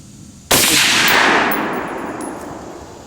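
A single Rock River Arms 6.5 Creedmoor rifle shot fired on a range, one sharp loud crack that rings out and decays over a few seconds, with a faint metallic ping afterward and no talking.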